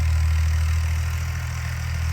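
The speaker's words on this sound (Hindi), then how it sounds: "ये देखें अब ना ये ट्रैक्टर भी आ गया है" A tractor fitted with a rotavator runs steadily in a field, its low engine drone holding constant and fairly loud throughout with no voices over it.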